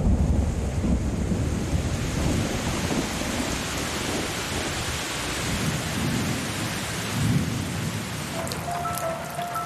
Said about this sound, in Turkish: Yağmur mevsimi başladı.